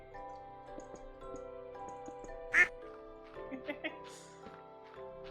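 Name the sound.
Stardew Valley duck quack played as a stream alert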